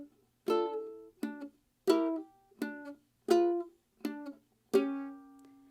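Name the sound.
fingerstyle ukulele playing Dance of the Sugar Plum Fairy intro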